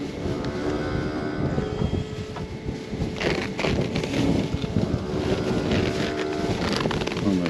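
Steady wind blowing across an outdoor microphone on a farm where a cow's loose heel is being treated, a continuous rushing roar with gusty buffeting throughout and no clear talk.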